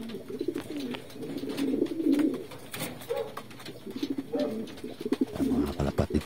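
Pigeons cooing close by in a loft, several soft throaty coos overlapping in an uneven rhythm, with some fluttering and shuffling, no talk.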